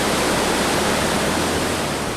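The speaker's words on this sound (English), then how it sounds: "This sewage wet well in Burnaby is one of 500 pumping stations where sewage collects before it's pumped towards the closest wastewater treatment plant." Sewage rushing steadily through a wet well at a Burnaby pumping station, a loud, unbroken broadband roar of flowing water with no pauses or voices.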